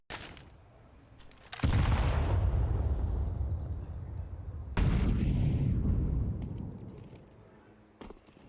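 Grenades explode in a professional CS2 match between Vitality and TheMongolz at the BLAST Bounty 2025 finals: two heavy, rumbling blasts a few seconds apart, each decaying slowly after a quiet, faint opening.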